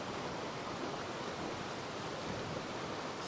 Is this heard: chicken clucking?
no